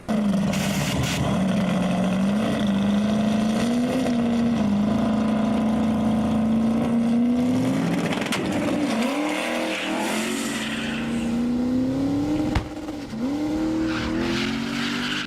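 A car engine with nitrous installed roars continuously at high revs, the pitch holding steady and bouncing briefly against the rev limiter, loud and close with no talking.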